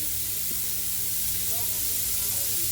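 Butter, in fact margarine, sizzles in a pan while green lima beans and sausages are being cooked, giving a steady, loud hiss that fills the short stretch without a break.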